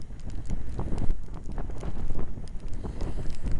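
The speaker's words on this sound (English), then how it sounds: "Normal windy day." Gusty wind from Storm Jude at Knightstone Island, Weston-super-Mare, buffets the microphone in rough, uneven bursts, a continuous low rumble with no one talking.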